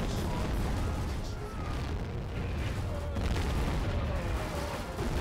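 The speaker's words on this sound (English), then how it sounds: "Might be mortars." Mortar shelling in a war video game: a dense, continuous roar of blasts and rumbling impacts fills the whole stretch, loud and unbroken.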